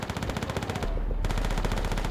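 Rapid machine-gun fire in the World War II shooter Call of Duty: World at War, a steady stream of close, loud shots with a brief pause before the burst resumes.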